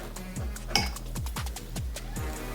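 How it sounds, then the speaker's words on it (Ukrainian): A knife and fork work through a chicken Kiev cutlet on a plate, giving a quick, regular series of close metallic clinks and scrapes against the dish. "Розріжемо ще разочок."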